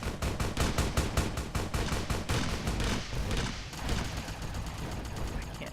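Enemies in Fallout: New Vegas open fire in rapid, repeated bursts of automatic gunfire, sharp and close, followed by a rougher, more scattered stretch of shooting.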